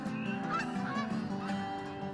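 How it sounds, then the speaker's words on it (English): Several geese on the Saskatchewan prairie honking repeatedly, moderately near, over a low steady background hum with no talk. "Oh, look at the geese."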